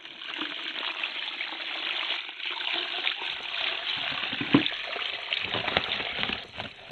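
Fresh, clear water pours over large dry clumps of clay in an artist's studio, a steady close-up trickle and splash that runs continuously, with a few sharper spatters as the clumps fill.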